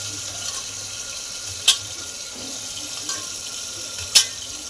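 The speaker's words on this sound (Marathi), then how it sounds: "आता मस्त बटाटे स्वच्छ धुवून टाकले." Potatoes being rinsed under a running kitchen tap, a steady stream of water splashing into the sink throughout, with a few sharper clatters and splashes as they are handled, close and alone without talk.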